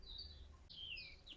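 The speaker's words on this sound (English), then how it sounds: "I could quite literally just sit here all day with a cup of tea, listening to all the birds song around." Wild birds singing outdoors in a peaceful setting, with several high, thin chirping phrases and sweeping whistles rising and falling over a steady low background rumble, fairly faint and distant, no voices.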